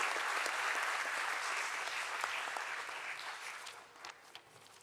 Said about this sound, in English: Let's give a huge round of applause, please.